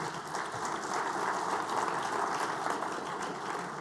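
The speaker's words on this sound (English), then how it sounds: "Can we hear a round of applause for McDonald?" Steady audience applause at a conference closing session filling the whole stretch, dense and even with many hands clapping at once, no voices standing out.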